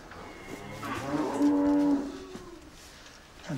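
Cattle in a hay barn in the Yorkshire Dales (Wensleydale): a single long, drawn-out moo swells and fades, close and clear over quiet barn ambience.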